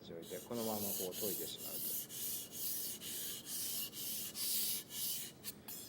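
A Japanese knife blade is rubbed across a whetstone with steady back-and-forth scraping strokes, held too flat to the stone, sounding close and even, with a few faint tonal sounds at the start.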